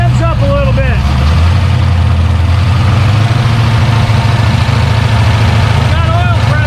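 A Ford 347 V8 in a Cobra Daytona build runs for the first time, giving a loud, close, continuous engine roar that is held at raised revs, with a voice heard over it.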